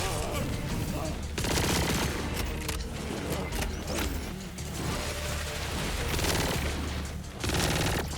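Rapid mechanical gunfire from modded high fire-rate guns in Borderlands 4, a dense clattering stream of shots with whirring, creaking weapon mechanisms, loud and continuous throughout with brief dips.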